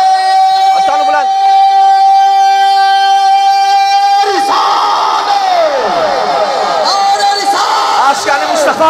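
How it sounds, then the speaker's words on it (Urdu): At a religious gathering, a single amplified voice calls out the Nara-e-Risalat slogan, then a large crowd answers with a loud, unified chanted shout that fills the rest of the clip. "سارے مجمع والے متوجہ نے ہتھانو بلند کر کے ذرا نعرہ رسالت"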